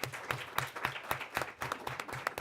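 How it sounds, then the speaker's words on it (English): An audience gives a round of applause for a panel of speakers at a policy forum, with steady, dense clapping at moderate distance and no talk over it. "can we applaud my stellar speakers one more time?"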